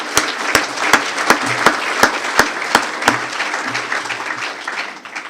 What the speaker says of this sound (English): let's give them a round of applause and get behind T&U